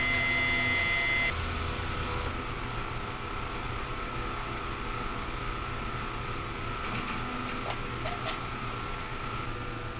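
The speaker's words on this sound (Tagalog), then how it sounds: "Press lang natin yung clean." A DTF printer hums steadily through a print head clean cycle, with a faint whine, low mechanical drone and a few soft clicks and tonal beeps along the way.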